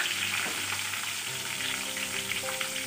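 Dry red chillies fry in hot oil with cinnamon, green cardamom and bay leaf, giving a continuous close crackling sizzle with faint stirring and no voices.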